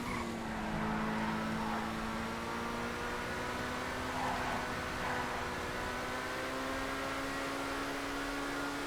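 A McLaren 720S GT3 race car engine in GTA FiveM drones steadily at a sustained, fairly even pitch, rising slowly as it holds a constant loud tone throughout, with no talk.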